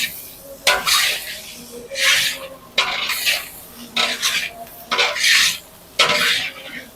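Leftover rice being stir-fried in a pan, a metal spatula scraping and tossing in repeated rasping strokes, close and fairly loud, with no voices.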